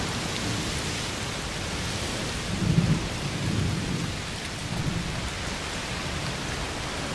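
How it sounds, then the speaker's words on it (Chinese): Heavy thunderstorm rain from the video game A Plague Tale: Requiem, a steady dense downpour hiss with low thunder rumbles swelling briefly a couple of times, without voices. "嗯，肯定是热暴雨。"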